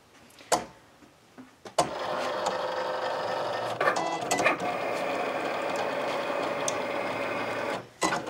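A Cricut cutting machine cuts tan vinyl with a steady mechanical whir, framed by clicks and knocks at the start and end, quiet and close with no talk.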